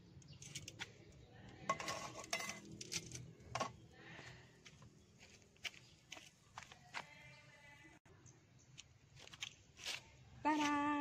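A knife knocks and taps repeatedly against a cutting board at an uneven pace, slicing a rolled omelet, while dishes clink and someone talks in the background.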